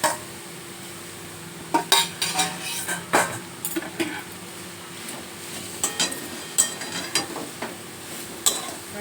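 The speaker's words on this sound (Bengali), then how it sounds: "আস্তে আস্তে নেড়ে নেড়ে একটুখানি ভেজে নেবো।" Chicken being stirred and fried in a pan for a homemade dish, with scattered clinks and scrapes of a utensil against the pan over a soft steady sizzle, close and moderately quiet.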